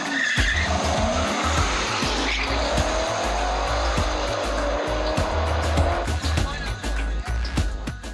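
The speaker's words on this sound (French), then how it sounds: "Le départ de la course entre les deux premiers bolides va pouvoir être donné." Street race cars launch at night with loud tire squeal and skidding over a rumbling engine roar, thumping and crackling close by, with voices faintly in the background.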